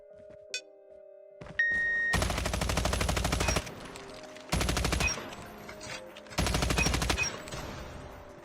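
Rapid automatic gunfire bursts in video game aim training with slide shots: three sustained volleys of a few seconds each, separated by short pauses, after a brief ping and a tone.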